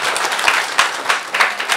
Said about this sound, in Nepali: सबैले ताली बजाएर उहाँलाई सम्मान गरौँ।